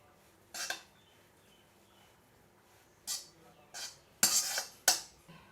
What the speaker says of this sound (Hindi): तो अब हम इन्हें बर्तन में निकाल लेंगे।